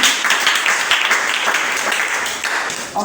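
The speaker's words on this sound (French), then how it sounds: "Acclame fortement Jésus." A church congregation applauds and cheers loudly in acclaim of Jesus during a French-language service, dense sustained clapping with crowd voices throughout.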